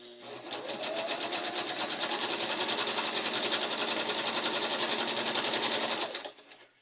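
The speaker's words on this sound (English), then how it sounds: "we're going to go to the sewing machine and we're going to sew across this way" A sewing machine stitches straight across a cathedral quilt-as-you-go block, running steadily at close range for about six seconds before stopping, with no talk over it.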